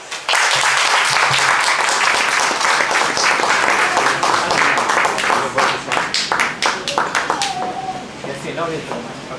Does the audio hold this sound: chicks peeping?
no